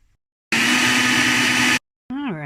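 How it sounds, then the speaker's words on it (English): A small bullet blender grinds dried ingredients into flour with a loud, steady, high-pitched whir lasting just over a second, then cuts off abruptly before a voice begins speaking. "bullet blender"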